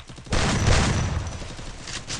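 A gunshot in a Hindi-commentated battle-royale video game hits the player by surprise: one sudden loud report from inside a house, followed by a sustained noisy rumbling decay that fades over two seconds.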